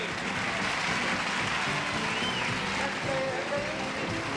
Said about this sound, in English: And give ourselves a round of applause